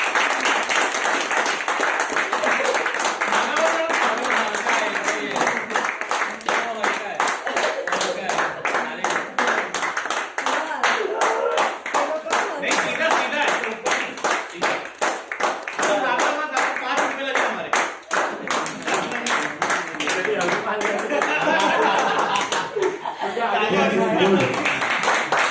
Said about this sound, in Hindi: तालियां एक बार जोरदार उनके लिए।